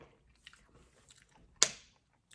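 A single loud crunchy bite into fast-food fried chicken, close up, a sharp crackle that fades quickly after faint earlier chewing sounds.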